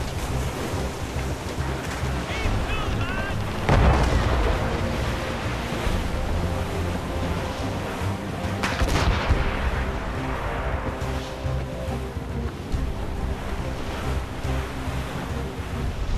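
Ship cannons booming during a naval battle at sea in Assassin's Creed Rogue, heavy thuds rising out of a constant roar of waves and wind, with a couple of stronger blasts standing out.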